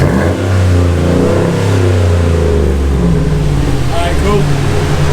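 A car engine with a newly installed aftermarket exhaust revs loudly and steadily up close, a continuous deep throaty drone with people talking over it.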